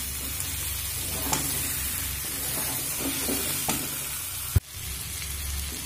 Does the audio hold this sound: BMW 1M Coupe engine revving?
no